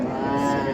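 A dairy cow at the Qarshi livestock market lets out a single short, nearby moo. The call is tonal and steady, with no talk over it.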